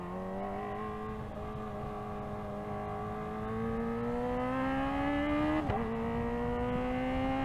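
A 2024 Kawasaki Ninja ZX-4RR engine pulls up through the revs, its whining tone climbing steadily, briefly dipping at a gear change and then rising again, loud and close with a constant rush of wind behind it.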